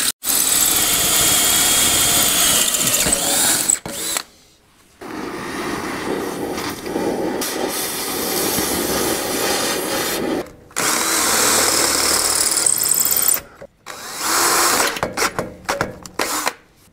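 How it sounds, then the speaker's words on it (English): A power drill bores out a stuck bolt on a Caterpillar D4 bulldozer, whining loudly in long continuous bursts with a few brief pauses between runs, close up and without talk. "So we're just gonna drill it out."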